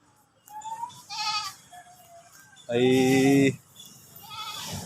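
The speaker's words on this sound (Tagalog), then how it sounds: "ang ating kambing na nabili" A brown and white goat bought for a farm in Oriental Mindoro bleats several times nearby, one long loud bleat among shorter ones, with someone talking between the calls.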